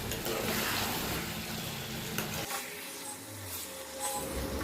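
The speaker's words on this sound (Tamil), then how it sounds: "இதே எண்ணெயிலே நம்ம 1/2 கிலோ சிக்கனை சேர்த்து அதையும் நல்லா வதக்கிக்கலாம்" Half a kilo of chicken frying in hot oil for a Tamil chicken gravy, a steady close sizzle with stirring scrapes that dips partway through and then picks back up.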